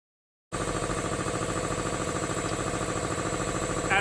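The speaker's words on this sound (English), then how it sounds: "At approximately 8 feet from the compressor package, the compressor average DBA is 78." An industrial Gold air compressor with a CA2 series pump, 7.5 to 15 hp, heard from about eight feet as it starts abruptly and then chugs in a loud, steady, rhythmic pulse.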